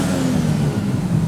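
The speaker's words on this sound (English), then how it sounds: "The exhaust is noticeably louder." Ford Falcon with boosted power and a louder exhaust revving in neutral, a loud, close, rough engine roar holding steady with slight fluctuations through the short stretch, no voices.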